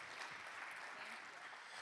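An audience applauds a student speaker named Kristen at the Grace College Gordon Center launch event, a steady wash of many hands clapping, fairly soft and distant, with no voices over it.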